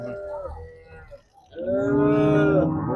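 Cattle moo loudly and close by at the Erode Karungalpalayam cattle market. One drawn-out low call is followed by a brief lull, then a longer, louder moo to the end.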